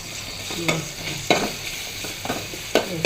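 Shrimp frying in a pan, a steady sizzle under four distinct scraping stirs of a spatula spaced about a second apart, close and alone with no voices.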